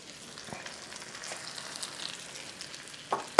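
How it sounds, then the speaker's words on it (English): French toast fries in butter in a pan, giving a quiet, even sizzle throughout, then a couple of sharp knocks near the end. No one talks. "we're going to let it cook on this side, let it start to set"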